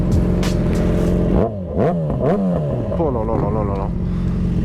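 A derestricted Yamaha XJ6 motorcycle engine held loud and close, then revving repeatedly with sharp rising and falling sweeps, while a man exclaims over it.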